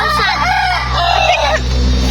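A fighting rooster crows loudly and close by, one long drawn-out call lasting about two seconds.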